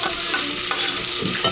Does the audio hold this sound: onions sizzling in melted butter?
yes